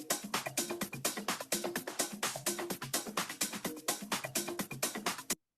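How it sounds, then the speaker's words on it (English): Disco drums play together in a tight four-on-the-floor groove, with crisp snare and hi-hat hits on a steady, driving pulse. The kit sounds close and dry with no voices, and it cuts off abruptly near the end. "And all the drums together sound like this."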